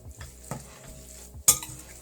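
Spoon mixing momo filling in a bowl makes a few soft, wet stirring scrapes and knocks, ending in one sharper clink, close and fairly quiet with no voice.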